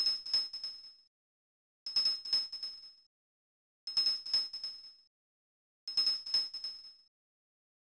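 Corinne's small bell chiming in Tales of Symphonia, four separate bursts of quick bright rings spaced about two seconds apart with silence between, clear and moderately soft.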